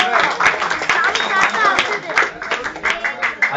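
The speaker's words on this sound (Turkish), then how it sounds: "Alkışlıyoruz arkadaşlar" A gathered audience at a religious hymn and humor gathering claps together, a brisk run of sharp, close hand claps under steady voices talking and cheering.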